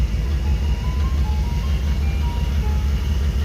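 An ice cream truck plays its music jingle steadily and loudly over a low engine rumble, the melody repeating throughout without talk.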